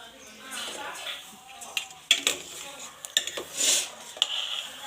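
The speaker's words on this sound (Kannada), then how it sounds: "ಶಾವಿಗೆನೂ ಇದರಲ್ಲೇ ಸ್ವಲ್ಪ ತುಪ್ಪದಲ್ಲಿ ಫ್ರೈ ಮಾಡ್ಕೊಳ್ಳಿ." Vermicelli fries in ghee in a metal pan for payasam. A spatula clinks and scrapes against the pan in irregular bursts over a soft sizzle, close up.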